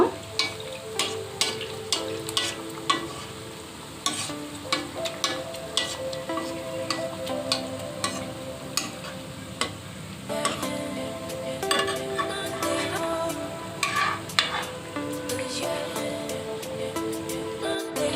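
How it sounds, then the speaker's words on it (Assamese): Homemade samosas fry in oil over a low flame, giving a close, steady crackling sizzle with scattered sharp pops throughout and no talking. "চিঙৰাকেইটা মই 20 মিনিটমান ভাজি ল'লোঁ।"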